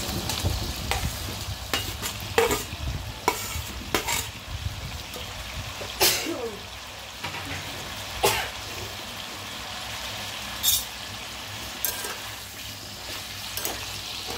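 Potato pieces fry in a pan of chicken curry while being stirred, with sharp scraping clanks of the spoon at irregular intervals over a soft, continuous sizzle.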